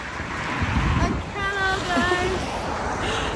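Strong, cold wind blows outdoors after rain in gusty rushes buffeting the microphone, with a brief whistling tone in the middle.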